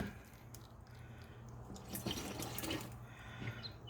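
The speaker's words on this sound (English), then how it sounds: "And that should pretty much drain the system" Fluid drains from a hose on a Yamaha Kodiak 400 ATV, a steady trickling and dripping of liquid heard close up, with a few louder splashes toward the end.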